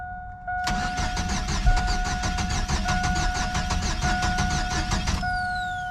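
Ignition-switch trouble on a Chevrolet S10-type GM truck: the starter cranks steadily for about five seconds with a rapid rhythmic chug, but the engine never catches, then the cranking stops, all close and loud with no talking.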